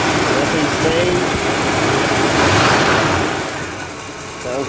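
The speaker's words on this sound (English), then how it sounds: "Engine idles nice and smooth. No vibration." A 1969 LeMans car engine idles steadily at close range, a smooth continuous rumble without vibration that eases slightly toward the end.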